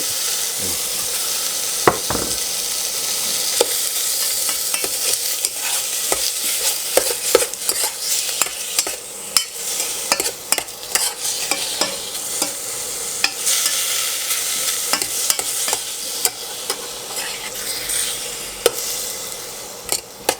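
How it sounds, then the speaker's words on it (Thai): Continuous close sizzle of sliced pork belly frying with curry paste in a pan, broken by frequent scraping stirs and occasional sharper clinks of the utensil. "ก็ผัดให้เข้ากับเครื่องผัดอะครับ"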